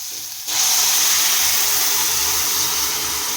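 Boiled lentils hit hot frying vegetables with a sudden loud rush of steamy hissing sizzle. The hiss holds strong and steady from then on.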